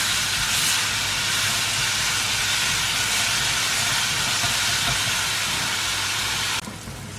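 Ginger garlic paste sautéing in a pan for a potato sandwich filling gives a steady, close hiss and sizzle that holds without a break, then drops abruptly near the end.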